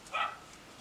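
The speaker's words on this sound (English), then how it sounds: "excuse me if you can hear dogs barking" A single short dog bark, faint and distant, against quiet background.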